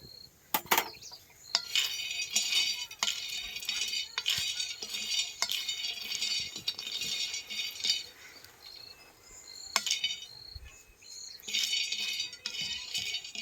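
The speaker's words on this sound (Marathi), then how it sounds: "त्याच्यानंतर आपण शेंगदाणे भाजून घेऊ" Peanuts dry-roast in a pan while being stirred, a dry rattling and scraping of nuts and utensil against metal, coming in bursts with short pauses between.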